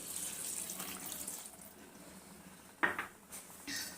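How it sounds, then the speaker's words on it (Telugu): Water runs and splashes steadily, poured from a cup into a cooking pot, followed by a few brief clatters and sloshes near the end. "ఆ కప్ తోటే వాటర్ వేసుకుందాం"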